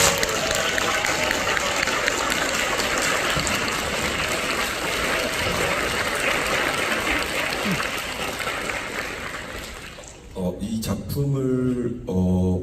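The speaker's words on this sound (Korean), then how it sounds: "세계 초연을 실현한 우리 아티스트 분들께 먼저 큰 박수 한 번 부탁드리겠습니다" Sustained applause from a concert hall audience honoring opera artists after a world premiere, dense and steady for about ten seconds before thinning out as a voice and scattered sounds come in near the end.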